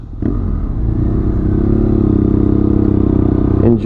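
A BMW F800 GT motorcycle engine drones steadily up close at a constant pace, with a brief wind or handling noise at the very end.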